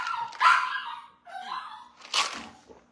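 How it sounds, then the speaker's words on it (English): A dog barks a few sharp, close yips and barks in quick bursts, loud and clear with no talking over it. "The dog just barks and goes crazy"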